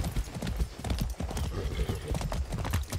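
Horse hooves clip-clop in a quick, steady rhythm as a horse is ridden in the video game Far Cry 6. The hoofbeats are close and clear over a low game background.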